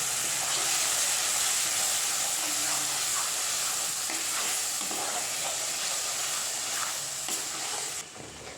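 Mashed pumpkin greens stirred into hot mustard oil in a pan, a continuous bright sizzle and hiss up close with occasional stirring scrapes, easing off slightly at the very end.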